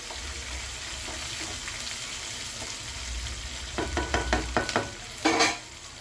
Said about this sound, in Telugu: ఉల్లిపాయలు కూడా బ్రౌన్ కలర్ వచ్చేలాగా వేపుకోవాలి.